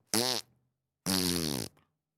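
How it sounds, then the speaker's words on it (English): Two loud, close fart sound effects, a short burst followed by a longer buzzing one after a brief gap, with no talking. "all he's doing is taking her videos and adding farts to them"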